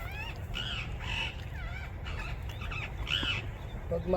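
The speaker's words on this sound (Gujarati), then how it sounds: "બે પોપટ બેઠા છે." Two parrots perched on Talaja hill give a run of harsh, repeated squawks, about six calls in quick succession, fairly close over a low background rumble.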